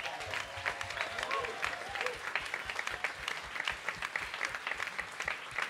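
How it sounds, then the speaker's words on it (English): Warm round of applause from a concert audience at a Latin music night, steady dense clapping that holds for several seconds at moderate distance. "big round of applause"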